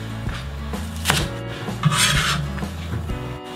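A knife cuts yellow chives on a cutting board, giving a few quick chopping knocks and scrapes over about four seconds, close and clear, no speech.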